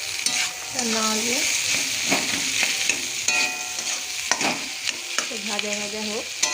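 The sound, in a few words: potatoes frying and being stirred in a pan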